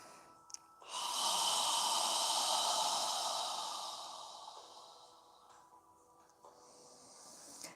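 Long breathy exhale through an open mouth, a soft airy hiss that swells then fades over several seconds, followed by a shorter second breath, close and quiet.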